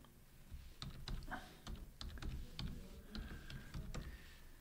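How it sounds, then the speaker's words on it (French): Keystrokes on a computer keyboard during a Linux system install, a steady run of light clicks at close range, quiet and alone. "Ensuite, je tape"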